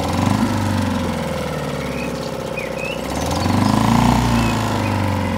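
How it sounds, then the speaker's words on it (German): An outboard motor on an inflatable boat runs with a steady, loud, rattling drone, and its pitch and loudness swell midway as it is given more throttle. "Jetzt gebe ich mal ein bisschen mehr Gas."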